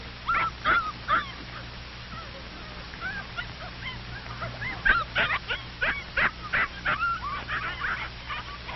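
Puppies whimper and yip in short, high, scattered bursts over a low steady hum, moderately close and fairly faint, growing busier toward the end.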